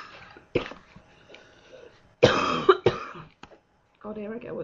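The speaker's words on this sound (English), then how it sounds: "here I go with a coughing fit" A person coughs in bursts during a coughing fit, with two strong harsh coughs in the middle and a weaker rasp at the end, close and fairly loud over a quiet background with faint voice.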